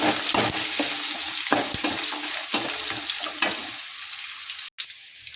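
Garlic frying in a pan for bisi bele bath gives a close, steady sizzle broken by occasional scraping stirs. The sizzle softens toward the end, with no talking.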